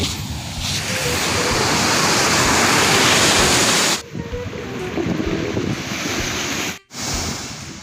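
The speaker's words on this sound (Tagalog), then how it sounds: "Grabing alon eh" Strong sea waves along the West Philippine Sea coast, a loud continuous rushing roar of surf and wind that breaks off abruptly partway through and then resumes, no voices.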